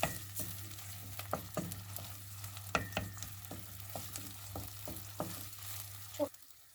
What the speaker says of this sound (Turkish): Ve şimdi de birazcık salçamızı kavuralım, karıştıralım